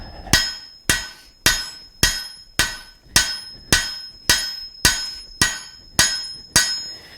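Blacksmith hammering hot half-inch steel into a leaf shape: twelve loud, evenly spaced ringing blows on the anvil, each decaying quickly, with no voices.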